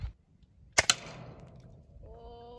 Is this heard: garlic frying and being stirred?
no